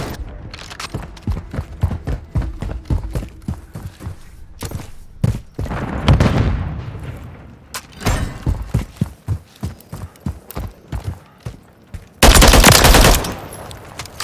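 Rapid automatic gunfire in Call of Duty: Modern Warfare III, loud close bursts of rattling shots with short pauses, a sustained blast around the middle and a dense roar near the end.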